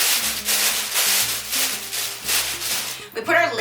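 Meat being shaken with gluten-free flour inside a plastic bag gives rhythmic, close rustling and rubbing pulses, about a dozen bursts, with a brief voice at the end.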